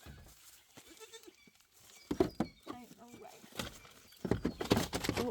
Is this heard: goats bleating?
yes